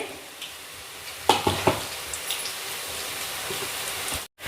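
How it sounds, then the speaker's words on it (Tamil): Onion pakoda deep frying in hot oil, a steady close sizzle with a few sharper pops and bubbling bursts partway through, heard alone without talking. "நம்ம பகோடாக்களை எண்ணெயில் போட்டு ஒரு நிமிஷத்துலேயே நம்ம வந்து திருப்பி விட்டுடலாம்"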